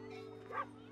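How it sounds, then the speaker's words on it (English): A single short dog bark or yip sounds at mid-distance in a children's outdoor listening game, briefly rising over a steady low background hum. "Easy, that's a dog."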